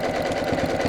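Sewing machine stitching through a thick fleece ring sling, a steady rapid mechanical chatter running throughout at close range with no voices over it.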